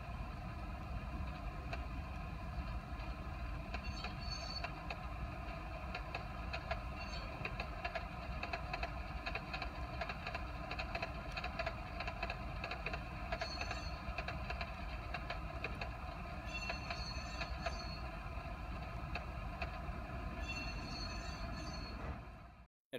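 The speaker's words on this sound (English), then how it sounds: "Speeding up or slowing down the throttle dictates the road noise" A steady, low rumbling HO scale model train noise, a 1960s PRR Broadway Limited passenger car sound effect, runs continuously with faint rhythmic clicking on top, then cuts off abruptly at the end.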